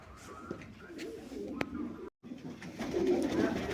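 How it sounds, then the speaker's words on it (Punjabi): Big pet pigeons coo softly in a loft, with low murmuring calls against faint background noise and a brief drop to silence midway. "ਆਪਣੇ ਹੈਗੇ ਆ ਜੀ ਵੱਡੇ ਕਬੂਤਰ"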